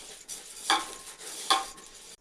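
Food sizzles steadily in a frying pan as turmeric is stirred in, with two distinct scraping stirs cutting through the constant hiss.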